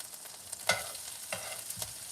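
Chopped onion dropped into hot butter in a pan, a soft steady sizzle punctuated by three clear scrape-and-toss bursts as the pieces are moved around.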